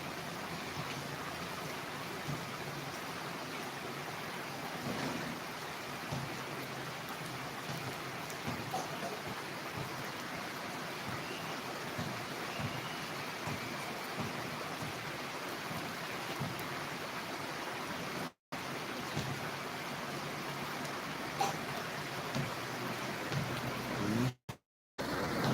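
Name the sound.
rain falling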